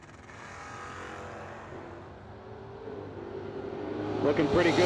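A drag race pits a 1981 Mercury Capri against a little 1927 Ford Roadster, the roar of racing engines rising steadily over a crowd murmur and an announcer's voice.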